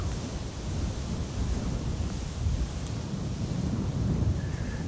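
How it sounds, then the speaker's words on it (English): Steady wind at Amsterdam Schiphol Airport, a continuous broad rushing roar buffeting the microphone, loud and unbroken throughout with gentle swells. "Pretty windy here today, and it's not slowing down yet."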